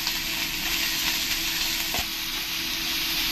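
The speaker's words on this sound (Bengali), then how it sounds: "এবার ভালো করে আমি এরকম করে কষিয়ে নেব" Onions, ginger-garlic paste and tomato sauté in a pan with a steady, close sizzle that fills the whole stretch, broken by one brief scrape of the spoon partway through.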